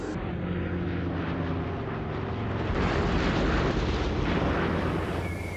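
Aircraft engines drone in a heavy, continuous roar over a summer day in 1942 wartime Voronezh, loud and sustained, swelling slightly toward the middle, alone without talk.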